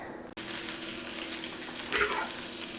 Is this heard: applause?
no